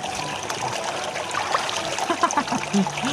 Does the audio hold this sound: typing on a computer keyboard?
no